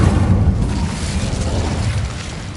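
An Incendio fire spell cast in Hogwarts Legacy, a deep whooshing burst of flame that swells at once and rumbles on for a couple of seconds, loud and close with no voices.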